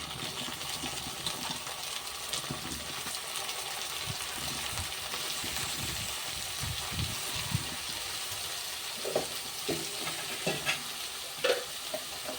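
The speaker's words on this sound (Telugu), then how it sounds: "ఉల్లిపాయ వేగింది, వంకాయ ముక్కలు వేస్తున్నాను." A quarter kilo of eggplant pieces fries with browned onions in a pan, a continuous sizzle layered with scraping stirs, and a few louder spatula knocks toward the end; no one speaks.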